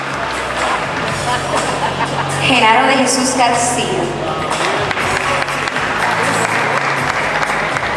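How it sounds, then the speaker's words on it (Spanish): Loud crowd applause at a graduation ceremony for professional broadcasting graduates, a dense, continuous roar of clapping and cheering that swells briefly, with an announcer's voice reading names over it. "¡Aplauso fuerte!"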